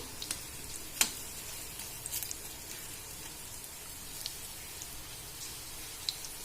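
Stuffed green chillies fry in oil on a stove, giving a low, steady sizzle with a few faint crackles and pops, all fairly quiet and heard alone.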